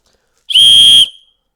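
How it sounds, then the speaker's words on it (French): A single shrill blast from a survival whistle, loud and steady for about half a second, then it cuts off into silence. "Le sifflet il fonctionne."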